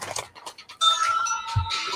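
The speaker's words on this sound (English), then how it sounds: "I'm getting a phone call" A phone's ringtone sounds for an incoming call, starting with scattered faint tones, then a clear, close melodic ringing that plays steadily through the second half with no talking over it.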